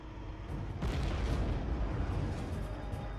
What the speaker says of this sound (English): the Bradley has to stop before it can fire these high-explosive, shape-charged warheads. Okay, missile away.